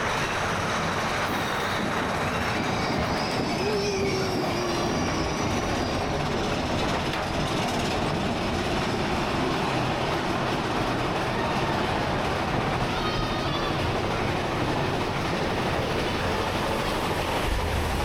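Disneyland's Thunder Mountain Railroad roller coaster train rumbles and clatters loudly and steadily along its track for the whole stretch, with faint wheel squeals and rushing noise, heard from aboard a riding car with no talk.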